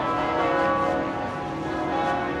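Church bells ring at noon in Quebec City continuously with sustained, overlapping tones and a steady hum beneath, moderately loud and fairly distant.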